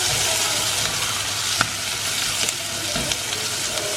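Onions and small shallots sauté in hot oil in a pan while preparing a coconut milk mutton curry. The sizzle is loud and continuous, broken by a few soft scrapes of stirring.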